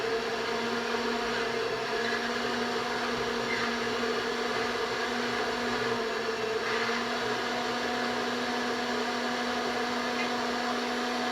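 An electric mixer whirs steadily while creaming butter and sugar in a bowl, giving off a constant motor drone with a fixed hum that runs unbroken and close throughout.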